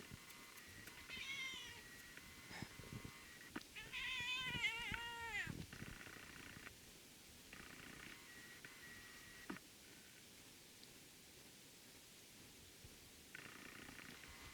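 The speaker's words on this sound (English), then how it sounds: "She has a really interesting meow." A cat meows several times in a row, close by, with drawn-out, wavering cries clustered in the first half and a few shorter ones later.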